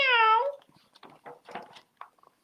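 A person reading a children's story aloud imitates a cat's meow with one drawn-out, wavering cry, then carries on reading in a quieter voice.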